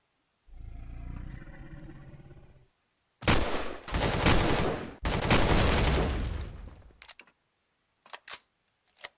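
Sentry turrets opening fire in the game Empyrion, with loud bursts of rapid gunfire in two long volleys after a low rumbling growl, then a few short sharp shots at the end, close.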